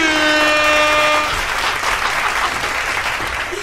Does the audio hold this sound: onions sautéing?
no